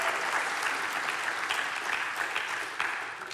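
A live morning-show audience in Mesa, Arizona gives a steady round of applause, dense crowd clapping sustained throughout at moderate distance, with no talking over it.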